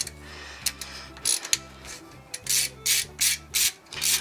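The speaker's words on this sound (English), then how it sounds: "We're gonna take our fancy dandy LTT screwdriver" An LTT ratcheting screwdriver turns while wiring a mini split unit. Close, crisp ratchet clicks come in short rhythmic bursts with brief pauses between strokes.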